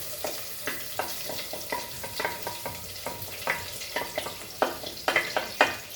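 Garlic, chilies and onions fry in melted butter in a hot pan, a steady close sizzle punctuated by repeated scraping stirs every half second or so, with no talking.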